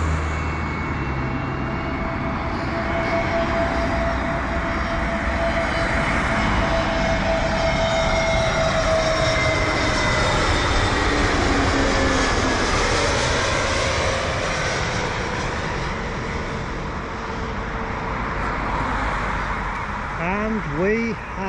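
Fixed-wing airplane touching down at an airport, heard from inside the cabin as a steady, loud engine roar with a rising whine, continuous throughout and swelling slightly toward the end.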